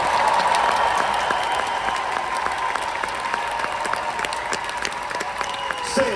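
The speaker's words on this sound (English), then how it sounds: "Give a big clap if you believe this." Loud, sustained applause from a large church-style audience, dense clapping with a few cheers, steady for the whole stretch.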